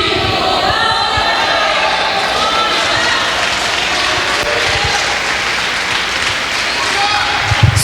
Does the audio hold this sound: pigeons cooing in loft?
no